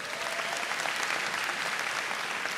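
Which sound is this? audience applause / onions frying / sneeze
audience applause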